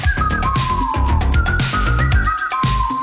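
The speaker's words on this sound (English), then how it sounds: "Who is that whistling?" Someone whistles a bright, sustained tune over loud rhythmic music.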